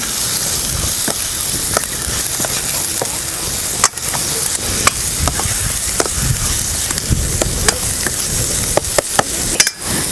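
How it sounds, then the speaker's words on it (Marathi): A hot pan sizzles steadily while a spoon scrapes and clicks now and then, stirring onion-garlic masala, turmeric and salt as they roast loudly close by. "आता एकजीव करून भाजून घेऊया"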